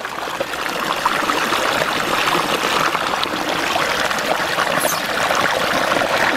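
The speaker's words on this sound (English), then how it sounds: "The whale squirts water." Water streams and splashes continuously from a toy whale squirting water, a steady close trickle and pour with no pauses.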